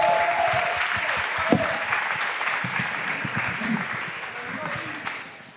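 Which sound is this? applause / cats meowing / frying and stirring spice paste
applause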